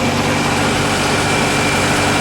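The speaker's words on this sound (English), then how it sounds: "I'm going to start fogging the engine." An inboard boat motor runs steadily during fogging, a loud, close, unbroken engine drone with no voices over it.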